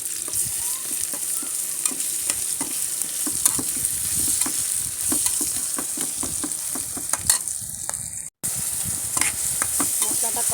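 Spice paste of turmeric, coriander powder and salt frying and being stirred in a pan, a continuous close sizzle with frequent sharp scrapes and taps of a spoon against the metal.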